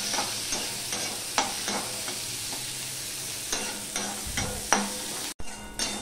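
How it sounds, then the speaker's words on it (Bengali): Onions frying in a pan, sizzling steadily while a spoon stirs them with repeated scraping strokes, close and fairly loud, with no talking. "এবার পেঁয়াজটাকে আমি ভেজে নেব।"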